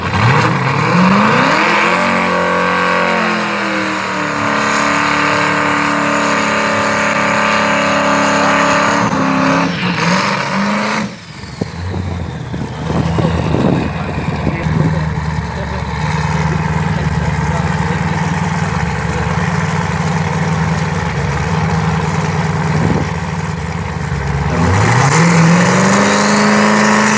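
A CPI drag racing car at Killarney accelerates hard, its engine climbing through loud rising pitch sweeps, easing off mid-run, then revving up again with a sharp rising whine near the end; no talk.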